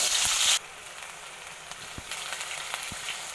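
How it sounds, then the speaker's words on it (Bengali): Cooking in a little oil for a snakehead fish curry, a soft continuous sizzle after a brief loud hissing burst at the start, with a few faint taps of a utensil and no talking. "এখানে আমি অল্প তেলে রান্না করছি"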